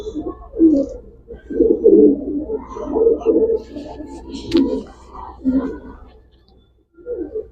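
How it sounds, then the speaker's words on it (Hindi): A green Madrasi pigeon coos in low, soft, repeated bursts, with someone talking over the calls at close range. "ये देखिए, ये हमारा हरा मद्रासी कबूतर है"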